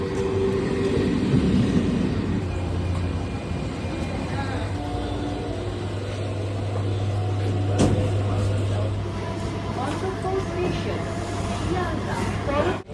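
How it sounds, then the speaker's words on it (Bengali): A Ranaghat local train pulling into a station, a loud low rumble and hum of the carriages filling the platform, with a sharp clank partway through and people talking over it. "4:34-এ রানাঘাট লোকাল করে যাব শিয়ালদা। ট্রেন এসে গেছে।"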